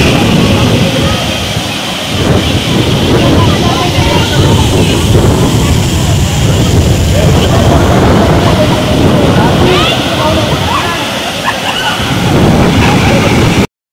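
Water from Sateri falls pours over rock in a steady, loud, unbroken roar that fills the whole scene, with wind-like buffeting at close range.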